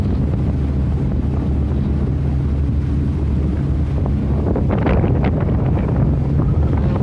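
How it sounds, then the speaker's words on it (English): Steady wind roars across a sailboat at sea as a northwesterly picks up, a constant low buffeting rush with faint splashing and creaking texture growing slightly busier toward the end. "The wind's picked up to northwesterly."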